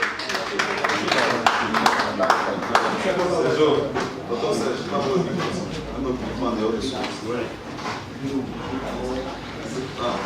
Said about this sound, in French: Applaudissons très fort pour Devian